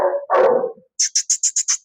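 A dog in Cairo gives a couple of loud, rough barks, then a rapid run of six short, high yips in quick succession, close to the microphone with no talking.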